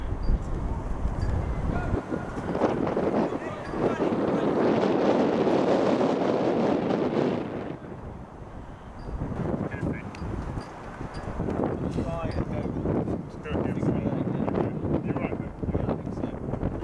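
Outdoor wind gusts buffet the microphone while riding a balancing scooter, with broad rushing bursts rising and falling, loudest midway, and people talking intermittently throughout.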